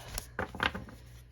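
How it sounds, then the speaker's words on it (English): A deck of tarot cards being shuffled in a few quick, close riffling bursts over about a second, with no talking. "I will shuffle 2 more times and pull the top."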